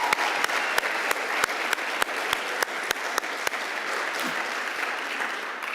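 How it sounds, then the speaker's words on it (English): An audience at a university research conference on media and communication applauds in a steady, dense wash, punctuated by sharp, evenly spaced clap-like snaps about twice a second. "Let's give you a round of applause."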